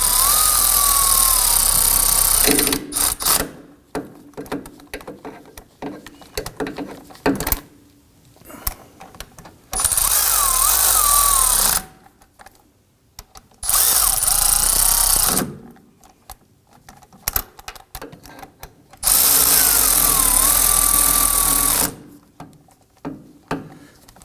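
Power tool snugging down bolts on a rear CV axle of a 2005-2009 Subaru Legacy, four loud close bursts of whirring with pauses and small clinks between them.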